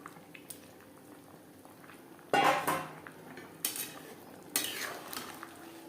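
Fried shol fish tipped into a pan of potato and cauliflower gravy, cooked without garlic or onion. After a quiet simmer, three loud bursts of clattering and stirring follow one another.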